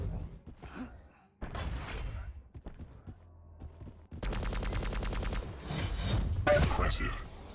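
Railgun shots traded in a Quake Champions match, sharp cracking bursts and rapid clattering volleys against busy game effects, loud and close, with brief quiet gaps between exchanges.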